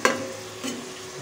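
Beans and vegetables being stirred in a hot pan for egg fried rice, giving a sharp scrape at the start, a second stir midway and a faint sizzle underneath.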